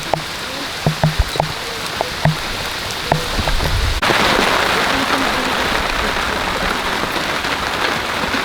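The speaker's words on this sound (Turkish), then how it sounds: "Yağmur böyle gelir işte." Rain in the Taurus Mountains, where nomadic Yörük families live: a few scattered heavy drops and taps at first, then a sudden steady downpour drumming loudly and evenly on surfaces nearby.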